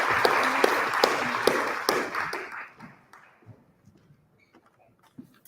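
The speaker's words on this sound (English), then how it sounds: "can we give them a little round of applause to welcome them?" Small audience at a live public forum debate event claps to welcome speakers, a short round of close applause that tapers off to scattered taps and near silence.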